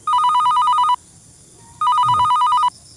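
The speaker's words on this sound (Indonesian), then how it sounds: "Nih, naon atuh HP teh disada wae." A mobile phone rings in two loud electronic bursts of about a second each, separated by a short pause, close and clear with no talk over it.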